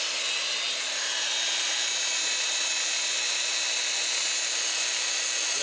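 A power polisher runs at low speed, spreading polish across an S550 Ford Mustang tail lamp lens, giving a steady, close, high-pitched whir that holds unchanged throughout.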